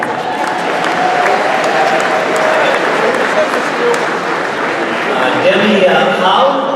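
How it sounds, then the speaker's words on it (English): Sustained applause and crowd noise fill the room at an evening small business award ceremony honoring a Michigan chapter, steady and dense throughout, with some voices mixed into the clapping. "so she heard the applause"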